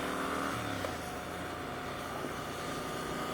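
A 2022 Triumph 1200 Scrambler XC engine running steadily while ridden, a continuous loud drone blended with wind rush and no talking.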